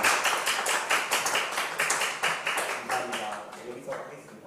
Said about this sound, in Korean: 오실 때 박수로 환영하면 좋겠습니다.